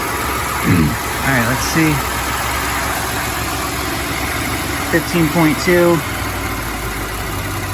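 A Ford F-150 twin turbo engine idles steadily at close range, a low constant hum under brief spoken remarks from a man nearby.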